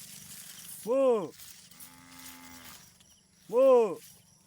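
Cattle answer a caller with two loud, drawn-out moos, one early and one near the end, with a steadier low drone between them; the herd is being called toward feed.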